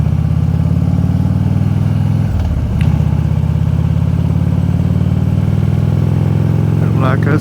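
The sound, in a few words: motorcycle engine downshifting on a ride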